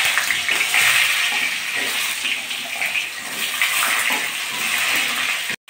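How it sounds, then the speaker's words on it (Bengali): Pointed gourd pieces fry in hot oil with bay leaf for a vegetarian potol dish, giving a loud, dense, continuous hiss that holds steady before cutting off abruptly near the end. "এখন আমি পটলগুলো ভেজে নেব"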